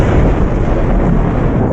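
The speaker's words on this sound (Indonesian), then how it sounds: "Petir terus menyambar" Loud, dense thunder rolls without a break, a deep rumbling crack of a lightning strike used as a dramatic sound effect, with nothing else over it.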